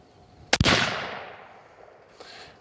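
A single 300 Weatherby Magnum rifle shot cracks sharply and loudly up close, followed by a long rolling echo that fades over about two seconds, with a faint later thump.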